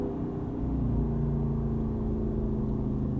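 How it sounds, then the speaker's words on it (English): A 2022 Jeep Wrangler Unlimited Rubicon 392 drops a couple of gears in manual mode, its engine holding a deep, steady, rumbling drone with a strong low hum from inside the cabin, and no talking. "We're going to put it into manual mode. Drop this a couple gears."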